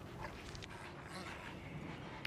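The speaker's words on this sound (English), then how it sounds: "I am holding a wounded dog." A wounded dog whimpers in the Mad Max video game, soft whines and yips heard close over a low game ambience.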